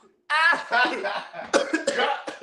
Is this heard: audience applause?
no